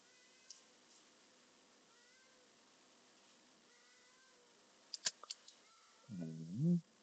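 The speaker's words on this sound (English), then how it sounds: "That's my cat meowing. Mochi." A pet cat named Mochi lets out a short, faint meow near the end, in a quiet room with a few soft clicks just before.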